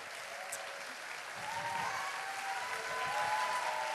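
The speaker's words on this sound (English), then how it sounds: "Oh, you got to applaud these guys." A church conference audience applauds a ministry group: continuous, dense clapping from a large crowd that swells slightly louder toward the end, with faint cheering mixed in.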